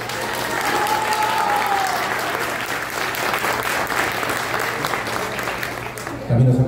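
A crowd at an outdoor park exhibition applauds a cultural association's president with steady, dense clapping throughout, overlaid by a faint voice and a low steady hum, with a louder bump at the very end.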